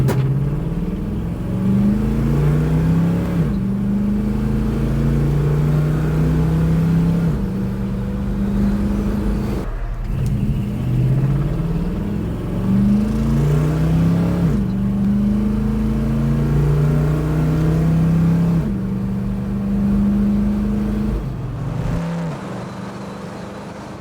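A Chevy C10 truck accelerates hard from 0 to 60 on a road, its engine tone climbing repeatedly and dropping at each gear change, loud and continuous from inside the cab with no talking.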